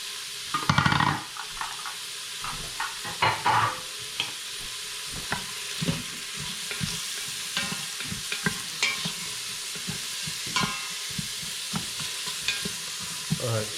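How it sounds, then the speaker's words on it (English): Onion and garlic sizzle steadily in hot oil, with repeated scraping and stirring clatters over the continuous frying hiss. "You can hear it starting to sizzle."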